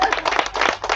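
Brief burst of audience clapping during a mayor's speech on affordable housing and commercial corridors in Sacramento, dense and steady for about a second at moderate level.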